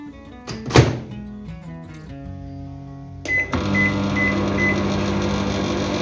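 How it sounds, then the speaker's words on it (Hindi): A microwave oven door clunks shut and a few beeps sound as the timer is set, then the microwave hums steadily with a low drone while heating pizza. "माइक्रोवेव में डालूँगी"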